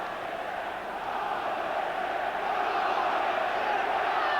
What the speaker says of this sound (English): Good support from the home crowd.